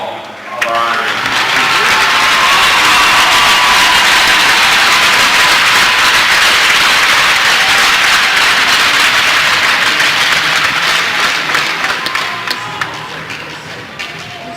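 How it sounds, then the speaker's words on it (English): A crowd at an ice hockey game in an arena applauds honorees with sustained, dense clapping that swells, holds for several seconds and then fades. "Round of applause for all of our honorees."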